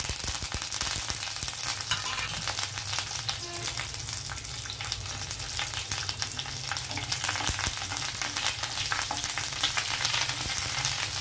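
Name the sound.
garlic, cumin, mustard seeds, dried chillies, curry leaves frying in oil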